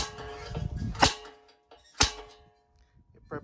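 Two sharp metallic taps of a center punch on metal about a second apart, close and ringing briefly, with light handling noise around them.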